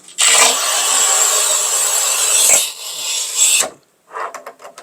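A manual RUBI or Shijing tile cutter with an 8 mm scoring wheel rasps across a tile in one long continuous stroke, pauses briefly, then makes a shorter scrape, followed by a few faint clicks and knocks.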